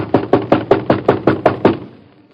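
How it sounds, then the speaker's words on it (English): Eight firm knocks bang on a store door at night in a radio drama, evenly spaced and loud and close, then fading into silence. "Let's bang on the door."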